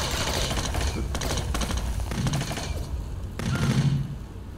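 Gunfire in the 2003 video game Kill Switch, a shooter: repeated bursts of automatic shots crack in quick clusters over several seconds, fairly loud and close, with a heavier burst near the end.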